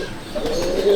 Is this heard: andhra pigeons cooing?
yes